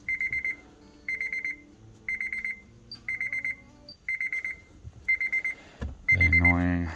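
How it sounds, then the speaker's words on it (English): A Honda Civic's warning chime sounds as a series of short, evenly spaced beep bursts, about seven in a row, loud and close, followed by someone speaking. "The annoying Honda beep"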